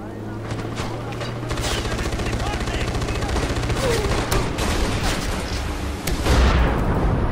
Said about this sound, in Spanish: Una vez empiecen los disparos